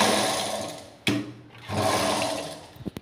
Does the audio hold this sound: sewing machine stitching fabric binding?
yes